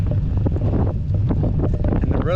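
A headwind buffets a cyclist riding along a flat, open road in Portugal, a dense continuous rumble of wind on the microphone, loud and close throughout.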